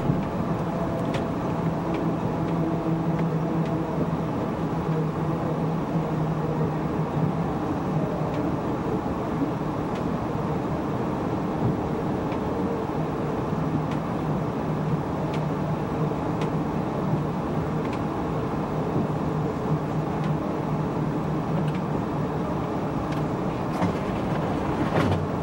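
Inside an Amtrak Southwest Chief passenger train crossing the Missouri River bridge, a steady low rumble and rolling rail noise drone on continuously, with faint clicks and rattles of the car throughout.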